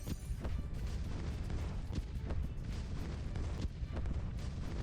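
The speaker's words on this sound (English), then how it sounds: "That's a lot bigger explosions." Dense, continuous rumbling booms and blasts with rapid overlapping bursts, like heavy explosions going off constantly, from the video game Bloons TD 6.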